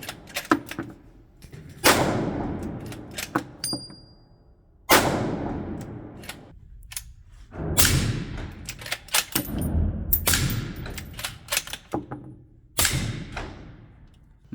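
5.56 rifle shots fired at an outdoor range with a HUXWRX HX QD titanium suppressor, about five loud, close reports spaced a couple of seconds apart, each trailing into a long rumbling echo.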